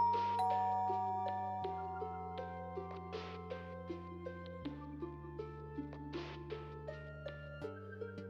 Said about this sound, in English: I ring the doorbell again.